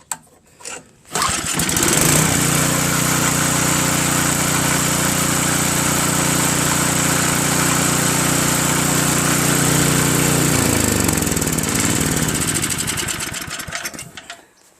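A Tecumseh 5 HP gasoline engine on a Craftsman 24-inch snow blower sputters to life and runs at a steady, loud, buzzing idle, then gradually winds down as it slows near the end.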